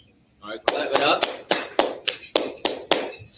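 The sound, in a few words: audience clapping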